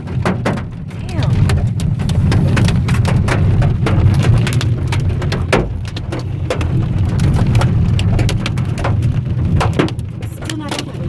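Hailstorm in the Andes near Mendoza, with a dense, steady patter of small hailstones striking surfaces throughout and sharper individual impacts cracking through now and then. Voices can be heard faintly under the noise.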